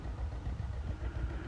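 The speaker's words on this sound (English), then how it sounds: "the tractor, with it being as wet as it is, had a little bit of trouble pulling it" Tractor engine straining as it pulls a plow too deep through wet garden soil on a first pass, a steady low rumbling drone that stays close and loud throughout with no voices.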